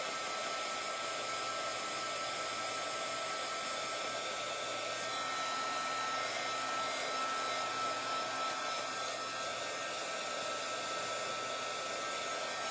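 A hair dryer blowing steadily on a craft project, a loud continuous whooshing motor roar that holds level for the whole stretch with no talking.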